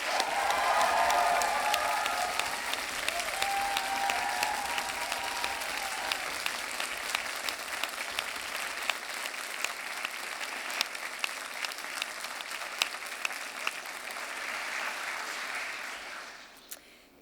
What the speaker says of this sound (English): please raise a loud round of applause for your family and supporters